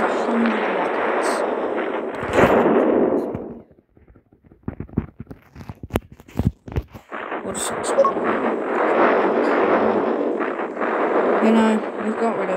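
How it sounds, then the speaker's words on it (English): Missiles slam into Earth in the video game Solar Smash, a loud, dense roar of explosions that drops out midway into scattered sharp blasts before the heavy rumbling barrage resumes. "I'm sending this many missiles in on one piece of rock."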